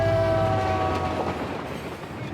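A freight train passes close by in a cold northern town, its horn sounding as a loud sustained tone over the rumbling, clattering roll of the railcars, which carries on after the horn fades.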